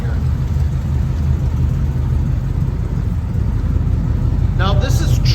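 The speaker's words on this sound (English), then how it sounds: "let's take a listen to this exhaust here" A 1951 Ford Victoria with a flathead V8 and true dual exhaust idles with a deep, steady low rumble, close and loud throughout, with a brief voice near the end.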